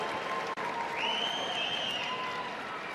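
Crowd at a Big Ten heavyweight college wrestling match in Minnesota applauding steadily, a dense wash of clapping and cheering with a whistle rising above it, brief dip near the start.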